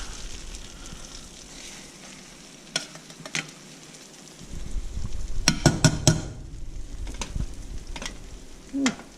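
Fish frying in butter with lemon, garlic and almonds over low heat: a quiet sizzle with a few sharp clicks, then a louder burst of spattering and clinks as pieces go into the pan.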